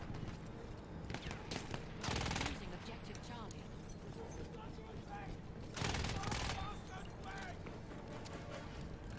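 Gunfire in the Battlefield 1 video game bursts out in two long, loud volleys of rapid automatic fire, separated by busier background battle noise and scattered shots.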